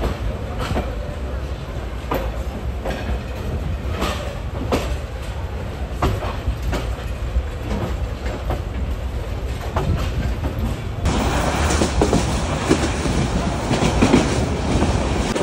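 The Korotoa Express pulls away from Bamondanga station, running late. It makes a continuous rumbling rattle with clickety-clack of wheels, heard from on board and growing louder and busier in the final seconds.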